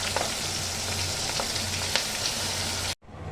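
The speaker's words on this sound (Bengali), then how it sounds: "এখানে আমি তেলের মধ্যে চিংড়ি মাছটাকে দিয়ে ভালো করে চাপিয়ে নিচ্ছি" Shrimp sizzle and crackle in hot oil in a wok, a loud, steady frying hiss that cuts off abruptly near the end before fainter sizzling resumes.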